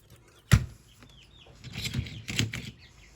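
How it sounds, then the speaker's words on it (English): Chickens cluck and squawk in a sudden burst, then keep up a busy, overlapping chatter nearby, with what may be a flutter of wings. "Chickens are excited."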